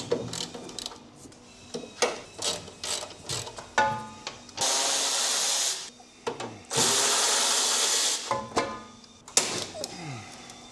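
Power tool undoing bolts on a Nissan LEAF battery pack, heard as repeated short ratcheting bursts with two longer whirring runs in the middle, close and fairly loud with no voices.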